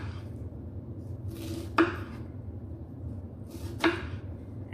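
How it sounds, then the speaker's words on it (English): A knife mincing half an onion on a cutting board: two sharp, close chops a couple of seconds apart over a quiet kitchen background, with no voices. "a half an onion minced with very few knife cuts and no tears"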